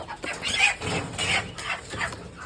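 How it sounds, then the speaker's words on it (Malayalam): Chickens in a coop cluck and squawk in a restless, overlapping jumble, fairly close, with no talking. "നമ്മുടെ കൂട്ടിൽ കോഴികൾ കിടക്കണ കാരണം ഭയങ്കര ശബ്ദമായിരിക്കും കേട്ടോ"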